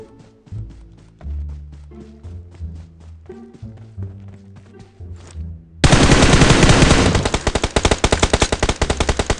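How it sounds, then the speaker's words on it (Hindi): BGMI video game gunfire: sparse single shots in the first half, then a loud sustained burst of rapid automatic fire that dominates the rest, with no talking. "आगे से फिर से गोली चलने की आवाज़ आता है"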